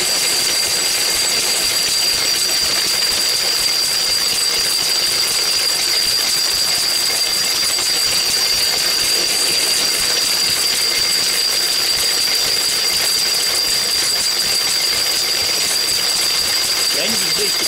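A Lister D engine runs slowly, driving a paint mill that grinds chalk, a constant loud mechanical chugging and rattle with a thin high whine throughout, and a voice speaks faintly over it.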